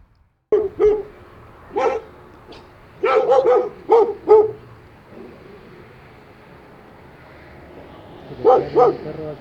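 A dog barks at an abandoned old mine site in Chile, with several loud, close barks in short bursts separated by pauses and a final pair of barks near the end.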